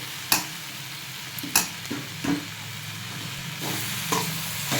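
Vegetable filling for chapati rolls is mixed with tomato sauce in a hot pan. Repeated spatula scrapes and knocks sound over a steady close sizzle.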